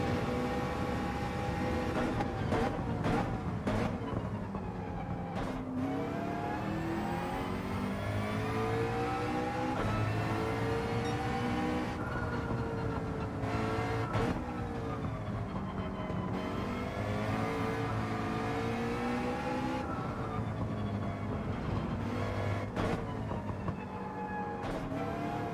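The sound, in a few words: McLaren race car engine accelerating, from video game Gran Turismo 7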